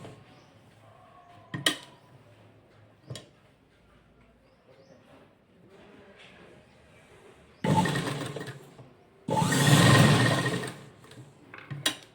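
A sewing machine stitches buckram onto lining cloth in two bursts of steady whirring, close and fairly loud, separated by quiet gaps filled with a few clicks and handling knocks.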